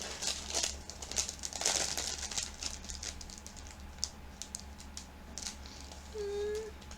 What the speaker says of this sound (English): I'm ripping it up.